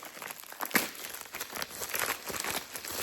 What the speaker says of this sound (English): Sorry about the crinkling.